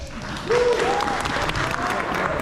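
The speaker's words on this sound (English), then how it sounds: "you may applaud" An audience bursts into applause, a steady wash of clapping that swells after a moment and holds, with voices and a cheer or call rising faintly over it.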